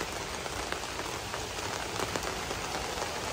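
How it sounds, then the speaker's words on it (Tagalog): Rain pattering steadily on a camping trailer, a dense even hiss of drops with occasional louder taps, no voices. "hindi naman nagtatagal ang ulan dito"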